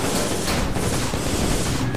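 Cannon fire in the Guns of Icarus airship battle game, a dense loud barrage of booming, crackling shots running together without pause over about two seconds.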